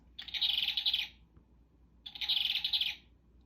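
Two buzzy, electronic-sounding hummingbird trills from a toy bird, each about a second long and separated by a brief pause, clear and alone.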